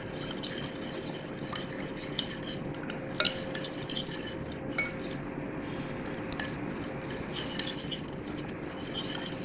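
Chicken marinade of black pepper, red chili, salt, garlic-ginger paste, olive oil, lemon juice and butter is stirred in a bowl, with soft scraping and scattered light clinks of a spoon against the dish over a low steady hum.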